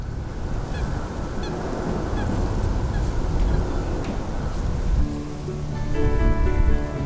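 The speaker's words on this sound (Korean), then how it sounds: "150여 종의 철새들이 서식하는 이곳은 시베리아에서 날아온 철새들이 월동을 하는 곳으로 유명합니다" Migratory geese and other wetland birds honking in a steady chorus at the London Wetland Centre beside the Thames, loud and continuous over a hiss like rain, with calls overlapping and no voices.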